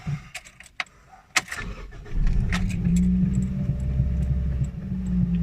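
A few clinks and clicks, then a car engine cranks and catches after an ECU reset, settling into a steady, loud idle rumble close by.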